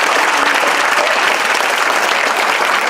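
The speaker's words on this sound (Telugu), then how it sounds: "అందరూ చప్పట్లు కొట్టండి ఒకసారి." Steady, dense applause from a school audience, loud and continuous for the whole stretch with no voices rising above it.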